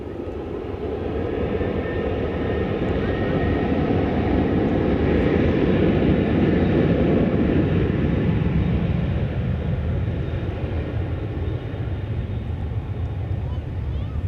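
A fixed-wing airliner taking off at DFW Airport on a Saturday, its engine roar steady and loud throughout, swelling to a peak midway and then easing slightly as it climbs away, with no voices over it.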